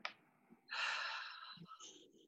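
A single deep breath drawn in and let out during a guided French relaxation session, a soft airy inhale followed by a quieter exhale, close and alone without speech.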